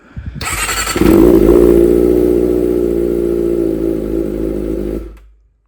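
A Kawasaki Ninja ZX-25R on a short full-system exhaust catches and settles into a loud, raspy idle, steady and close, before cutting off abruptly.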